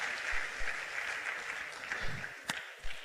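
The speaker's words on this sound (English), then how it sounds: "A round of applause for them." An audience at the DataFest Africa 2022 event applauds, a brief burst of moderately distant crowd clapping with a few louder individual claps popping out near the end.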